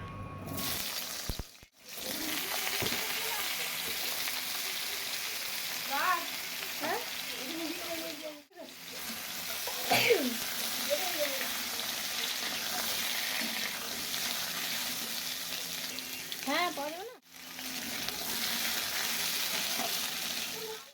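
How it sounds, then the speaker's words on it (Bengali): Potatoes frying in oil in a pan while cooking shukto give a steady, moderate sizzle with occasional stirring clatter, broken by a few short silent gaps. "এবার আলুটাও আমি সুন্দর করে ভেজে নেব এখানে"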